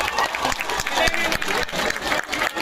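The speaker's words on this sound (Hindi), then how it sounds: "भैया का जोरदार तालियों के साथ आप स्वागत करिए" A crowd at a political rally in Jharkhand claps loudly to welcome a local leader, dense applause filling the short stretch with some voices mixed in.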